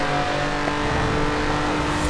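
A 1.5-liter all-wheel-drive car accelerates, its engine drone loud, steady and close, with a rising tonal whine throughout.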